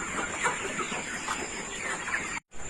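Colour Bird broiler chickens in a poultry shed, many birds clucking and chattering together at once, a dense continuous flock sound nearby that cuts out briefly near the end.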